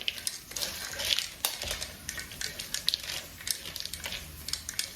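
Zucchini and frozen corn being mixed together in a bowl, with soft scraping, light clinks and irregular tapping of a utensil against the dish, close and fairly quiet.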